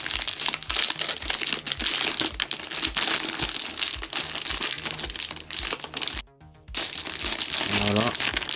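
Plastic wrapping being torn and crinkled off a PS4 copy of The King of Fighters 2002 Unlimited Match collector's edition, with a steady loud crackling and rustling throughout and a brief pause near the end.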